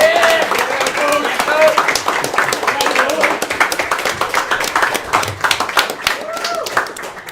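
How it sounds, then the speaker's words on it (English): Applause for a boys' high school soccer coach at a team event: loud, uneven clapping mixed with cheering and excited voices calling out over it throughout. "can you give Coach a round of applause"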